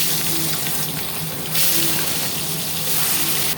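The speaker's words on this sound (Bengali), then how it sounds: "তেল গরম হয়ে গেছে ধোঁয়া বেরোচ্ছে দিয়ে দিলাম মাছ" Small chela fish sizzling in smoking-hot mustard oil in a kadai, a steady loud broadband hiss and crackle of frying that swells midway and stays continuous throughout, with no talking.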